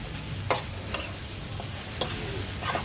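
Rice with dark soy sauce being stir-fried in a wok, with a low steady sizzle under a few sharp scrapes and clatters of the spatula against the pan.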